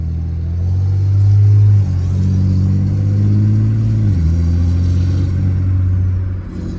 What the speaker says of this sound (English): That exhaust brake be hitting.